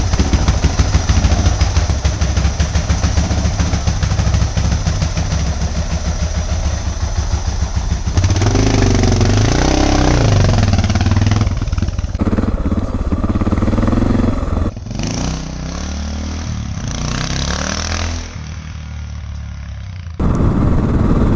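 A Suzuki DR650 motorcycle engine running loud and close after carburetor adjustment, a rapid thumping single-cylinder idle with clattery rhythm that shifts and revs unevenly, with abrupt cuts in the sound later on.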